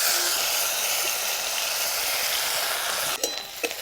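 Onion paste sizzling steadily in hot oil while cooking a Bengali sating fish curry, a dense continuous frying hiss that breaks off near the end into a few light scrapes and clinks.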